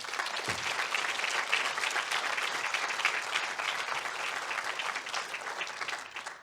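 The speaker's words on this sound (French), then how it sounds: "On peut les applaudir?" Audience applauding at a screening and discussion event, sustained dense clapping from a large crowd that stays steady before easing off.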